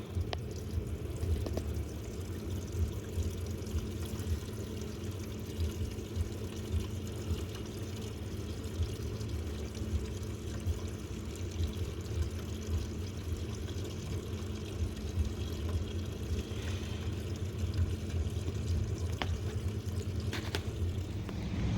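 An electric fuel pump, tested after removal, pushes fuel into a baking dish, giving a steady close hum with a continuous pouring, splashing rush and no talk.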